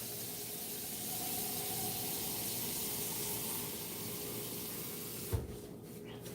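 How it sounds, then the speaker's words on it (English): Water poured into the reservoir of a Keurig coffee maker, a steady close rushing hiss lasting several seconds, then a single sharp knock as the pouring stops. "Gotta add more water to the Keurig."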